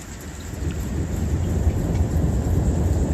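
Rain and rolling thunder from the opening of Slayer's Raining Blood play as a music sample, a dense steady downpour hiss under a deep continuous rumble, alone without speech.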